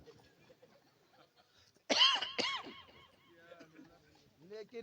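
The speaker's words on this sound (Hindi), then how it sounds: "देखिए खांसी उठ जा रही" Two harsh, loud coughs burst out close by amid quieter mumbled Hindi speech during a Ramadan sermon, followed by some rougher throaty sounds.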